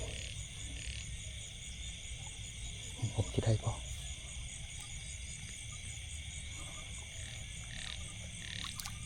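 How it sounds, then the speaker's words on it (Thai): Frogs by the water at night give a short cluster of rapid croaks midway, over a constant bed of insect trilling. Someone talks quietly nearby. "กบครับพี่น้องครับ"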